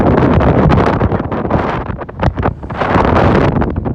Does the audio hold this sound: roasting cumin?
no